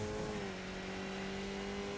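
A Mazda MX5 race car on the Tsukuba circuit in the iRacing sim holds full throttle, its engine a steady, sustained high drone at moderate level with a slight pitch shift early on, no voices.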